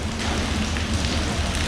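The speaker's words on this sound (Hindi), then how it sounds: "ये देखो बारिश का पानी गिर रहा है ऊपर से" Rain pouring down from overhead onto a railway station platform in Gorakhpur, a steady dense patter and splash close by with no voices.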